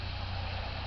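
Low, steady traffic hum from a nearby road drifts across a berry garden in Western New York on a calm morning, faint and continuous with no distinct passing vehicles.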